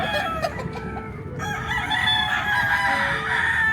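Gamefowl stags on a farm in the rainy season crow repeatedly, with overlapping cock-a-doodle-doo calls and scattered clucks, moderately near and continuous with no talk.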